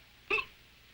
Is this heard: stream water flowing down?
no